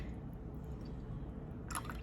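Sugar-flavored water poured into lemon juice for keto low-carb homemade lemonade, a brief splashy pour near the end over a steady, quiet low background.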